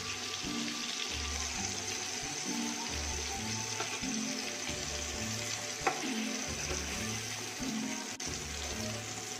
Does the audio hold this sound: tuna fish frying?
yes